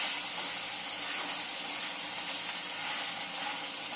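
Burger patties smashed down on a BBQ grill sizzle with a dense, even hiss, close and constant, with no talking over it.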